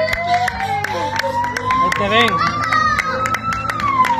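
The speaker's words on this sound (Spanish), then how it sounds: "Toca las palmas fuerte, hombre." Hands clapping amid a lively crowd with cheering and shouting voices, steady and close, mixed with excited talk throughout.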